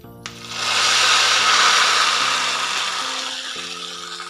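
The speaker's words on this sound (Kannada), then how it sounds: "ನೋಡಿ, ನಾವು ಮಾಡ್ಕೊಂಡಿರೋ ಒಗ್ಗರಣೆ ಎಲ್ಲ ಈಗ ಬಿಸಿಬೇಳೆ ಭಾತಲ್ಲಿ ಸೇರಿಸ್ಕೊಳ್ಳೋಣ." Hot tempering poured into wheat-rava bisibelebath, a sudden loud hissing sizzle that swells within half a second and holds steady, slowly easing over several seconds, with steady tonal hum underneath.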